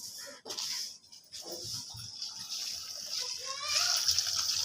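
Rice being rinsed in water in a home kitchen while pulao is made, with sloshing and splashing throughout, louder near the end, and a voice and other speech mixed in.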